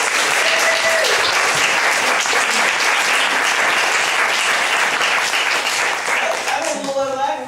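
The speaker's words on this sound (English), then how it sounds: "Let's give her a big applause." An audience breaks into sustained applause, a dense wash of clapping that holds steady and fades slightly near the end as a voice begins to speak.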